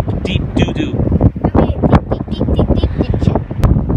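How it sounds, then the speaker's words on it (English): Gusty wind buffets the microphone on a coastal clifftop on the Gower, with a loud, steady roar that rises and falls over a few seconds, and people talk close by underneath it. "it's windy"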